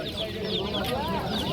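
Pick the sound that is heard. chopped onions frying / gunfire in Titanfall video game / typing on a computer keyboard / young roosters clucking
young roosters clucking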